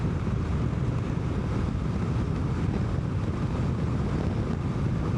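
Strong crosswind roars and buffets against the microphone while riding a 2025 Honda NC750X motorcycle, a loud, continuous, dense rush with no pauses.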